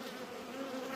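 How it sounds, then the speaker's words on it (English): Honey bees buzz steadily and densely around a drawn brood frame lifted from the hive on grafting day, a close continuous drone with no talk. "probably has plenty of nurse bees on it"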